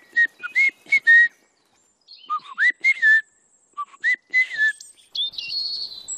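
Small birds in an Atlantic forest in the Huelva countryside of Spain sing in bright, clear whistled phrases and chirps, coming in short bursts with brief pauses, close and alone.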